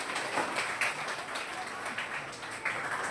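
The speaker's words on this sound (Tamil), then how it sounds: "எல்லாரும் கைத்தட்டுங்க." An audience at a special church festival Mass claps, giving a steady wash of many hands applauding, moderately distant, with faint voices underneath.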